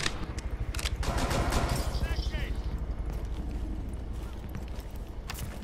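Rapid automatic gunfire in the video game Rainbow Six Siege, a fast dense burst of shots continuing for several seconds with players talking over it.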